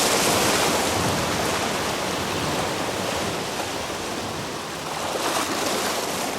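Ocean surf breaking on volcanic shoreline rocks on the island of Savaii, Polynesia: a steady, loud, full-bodied roar of churning water with gentle swells in intensity, close by and uninterrupted, with no voices.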